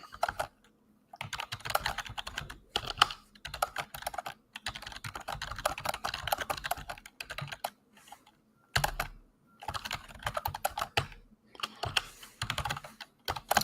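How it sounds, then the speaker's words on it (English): Someone types a message on a computer keyboard, producing close, brisk bursts of key clicks separated by short pauses, with no talking. "I'm just typing a message here"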